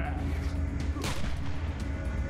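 Gunshots in the post-apocalyptic game Wasteland 2, fired through a wall, one loud sharp crack standing out over a low rumbling background, with a few fainter hits around it.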